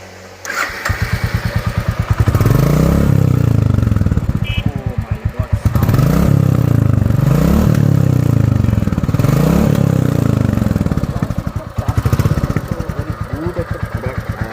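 A second-hand Royal Enfield motorcycle in Bangladesh starts up and runs with a deep, thumping single-cylinder idle, swelling in repeated loud revs and easing back, close by with no talk.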